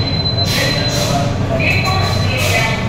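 A Mumbai Aqua Metro train runs underground, heard from inside as a loud steady rumble with high wheel squeals and a constant whine, and a voice speaks briefly over it.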